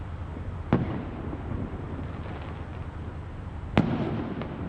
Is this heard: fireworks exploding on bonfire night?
yes